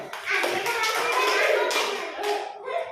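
A burst of many hands clapping together at a government primary school, dense and lively, with children's voices mixed in and the clapping trailing off near the end.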